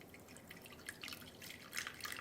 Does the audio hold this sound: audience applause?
no